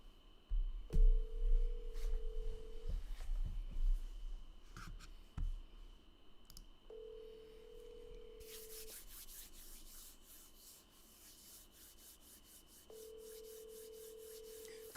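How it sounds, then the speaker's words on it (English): A telephone call rings out while waiting for an answer: three evenly spaced long ringback tones over a quiet line, with some handling clicks and knocks near the start. "Come on, answer the phone"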